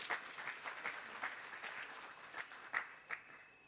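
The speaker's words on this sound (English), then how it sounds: "A round of applause for Dr." An audience at a conference gives a round of applause after a presentation, moderate scattered clapping with a few sharper claps standing out, heard from a distance and tapering off.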